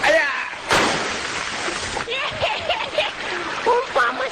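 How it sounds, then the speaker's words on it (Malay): A person plunges into water with a loud, sudden splash, the spray and slosh trailing off over a few seconds beneath cartoon voices and speech. "Umpama sebiji cempedak dilontar ke dalam air."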